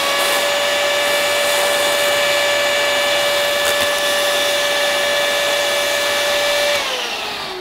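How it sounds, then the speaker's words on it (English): An electric air inflator blows up an air-filled balloon with a loud, steady whining roar that holds for several seconds before winding down at the end. "And inflate with air, because it's all entirely air filled."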